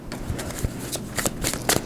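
Tarot cards are shuffled close up in a quick run of crisp riffling and flicking bursts, with no voices.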